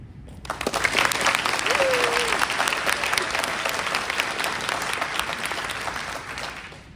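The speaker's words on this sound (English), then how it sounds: "give yourself what you deserve, a little bit better round of applause" Sustained audience applause at a Fall 2024 SHSU White Coat Ceremony, a dense wash of many hands clapping that rises quickly and holds steady for several seconds with faint crowd voices underneath.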